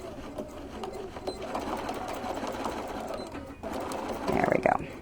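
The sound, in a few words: sewing machine stitching a bench pillow cover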